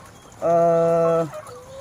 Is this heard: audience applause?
no